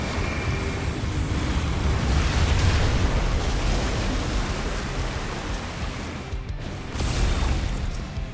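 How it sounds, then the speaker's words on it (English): A fusion explosion in the video game Final Fantasy XIV rolls out as a loud, sustained roaring blast of broadband noise that swells, holds and briefly dips before surging again. "The brothers have triggered a fusion explosion!"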